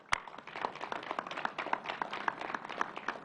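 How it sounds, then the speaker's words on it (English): Audience applause at a governor's COVID-19 briefing, a steady fairly faint patter of many hands clapping with one sharp louder clap near the start. "Let's give a big round of applause"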